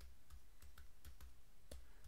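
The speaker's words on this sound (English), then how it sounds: "I go and type in John Mark Osborne." A few faint, sparse clicks of typing on a computer keyboard, roughly six separate keystrokes, sit over a steady low background hum with no talk.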